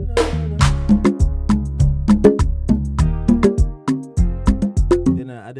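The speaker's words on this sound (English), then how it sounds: "So I started playing the conga with the chord." Conga samples played as chords in FL Studio ring out as a loud, punchy rhythmic pattern of repeated percussive hits with pitched tails, ending in a short wobbling tone and with no talking.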